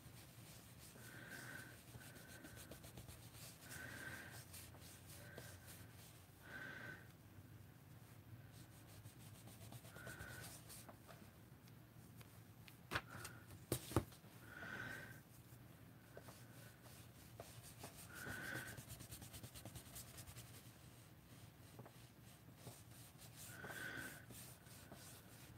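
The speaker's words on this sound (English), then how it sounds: "There's the color on it, and I'm just going to rub it around" Color being rubbed around on a surface with a soft tool, a quiet, repeated scrubbing stroke that comes in regular passes, close and faint, with a couple of small sharp knocks partway through.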